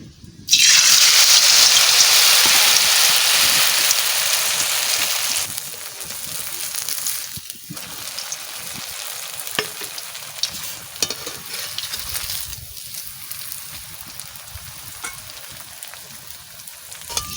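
Bitter gourd leaf chops hit hot oil with a loud burst of sizzling that settles into a softer, steady frying hiss with occasional crackles and pops, close by and without talk.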